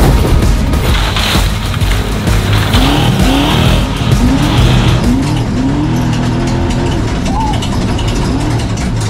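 A Ford Ranger drives hard over bumpy terrain, with a loud, continuous rough rumble of engine and rattling bodywork, some squealing tones and occasional voices underneath.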